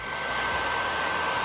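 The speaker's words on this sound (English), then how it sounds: "Nothing that a hairdryer can't fix." A hair dryer blows steadily at close range, a continuous whooshing hum with no talking over it.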